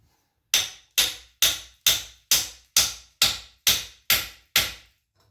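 A hammer strikes a steel wrench ten times in an even, steady rhythm, each hit a sharp, bright metallic clank that rings and fades before the next, loud and close with no talking.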